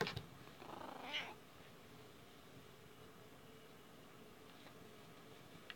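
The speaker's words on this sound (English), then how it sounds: "as you can tell, that was my kitty cat. She wanted to say hello to everybody." A pet cat gives a short, fairly close meow in the first second or so, followed by quiet room tone for the rest.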